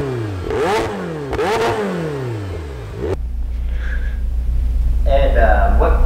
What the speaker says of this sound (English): I rev it loud and I love the way it feels